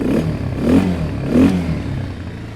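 A Spark SP200-4 quad bike engine revs up and eases off twice in a row, a close, throaty rumble with some clatter.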